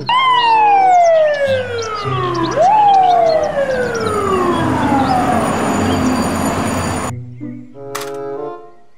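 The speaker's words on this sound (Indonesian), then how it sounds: "mobil truk pemadam kebakaran" A toy fire truck's loud electronic siren wails in repeated falling sweeps, then cuts off, leaving a brief tinny tune and a click.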